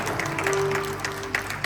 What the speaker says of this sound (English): You should have clapped right now.